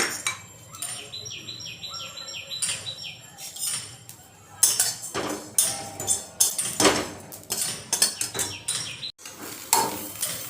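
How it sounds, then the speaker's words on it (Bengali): Ajwain seeds and cumin are dry roasted in a clay frying pan, heard as a series of sharp scraping and clinking strokes of a utensil against the pan, with bird chirps in the background early on. "চলো আগে ভেজে নিই কাঠখোলাতে।"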